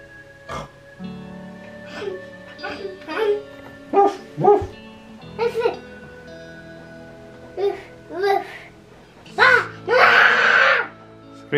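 A dog barks several times in short, spaced bursts, fairly close, with a few louder, harsher barks near the end.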